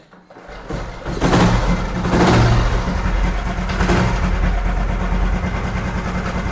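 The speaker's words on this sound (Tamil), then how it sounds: "ஸோ வெஹிக்கிள் ஃபர்ஸ்ட் ஸ்டார்ட் பண்ணிடலாம்." A restored 1970 Royal Enfield motorcycle engine fires up after a brief quiet start, then settles into a loud, steady idle with a few blips of revving, close by.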